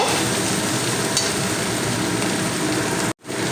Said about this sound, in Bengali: এইবারে চিংড়িগুলোর সঙ্গে একই সঙ্গে নাড়াচাড়া করে নেব